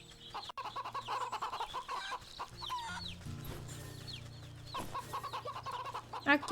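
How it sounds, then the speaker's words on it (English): Chickens clucking in the video game Wytchwood, a busy farmyard flock with repeated clucks and chirpy calls over a steady low background hum, continuing throughout. "We're gonna pet the chickens."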